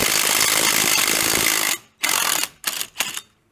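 Craftsman impact gun working on a tire at a changer, a loud continuous rattling hammer for almost two seconds, followed by three short sharp bursts with brief gaps.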